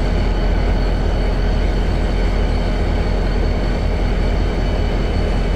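A train on the Carrabassett Valley Railroad in a video game rolls while the brakes are applied, a steady, loud rumbling wheel and rail noise that holds at an even level throughout.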